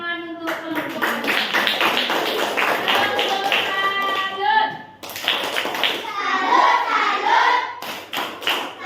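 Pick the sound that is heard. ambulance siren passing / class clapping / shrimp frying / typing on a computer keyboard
class clapping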